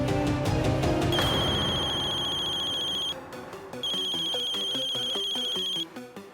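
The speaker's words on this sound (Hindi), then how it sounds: "अम्मा का फोन।" A mobile phone ringtone trills over background music in a Hindi TV drama, sounding in two long bursts separated by a brief gap. Clear and prominent, with no one speaking.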